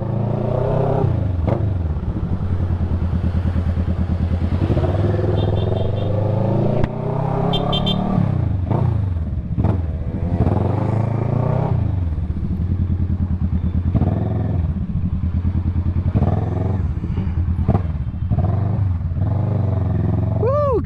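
A scooter engine drones steadily while riding, its pitch rising and falling with the throttle, close and continuous throughout.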